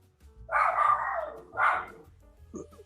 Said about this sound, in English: My dog is complaining about FP Journe right now.